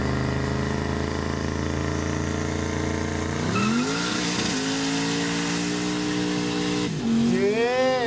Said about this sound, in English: doing a power skid